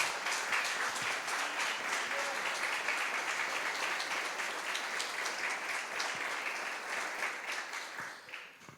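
A church congregation breaks into sustained applause, a dense, even patter of many hands heard from some distance. It fades slightly toward the end.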